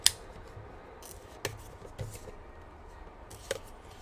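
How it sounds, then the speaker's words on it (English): Scissors snip the plastic tabs off a Muerkury wifi smart plug box, a few sharp isolated clicks spaced over a quiet background, close and fairly faint. "Cut off these tabs."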